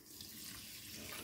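Half a cup of water pours into a pan of sugar to make syrup for motichoor laddu, a brief, steady splashing stream heard up close.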